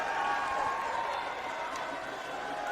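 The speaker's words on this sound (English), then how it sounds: "Listen to that crowd. They love what they're seeing." Faint crowd at an indoor wrestling match, a steady roar of cheering and scattered applause running throughout and heard from a distance.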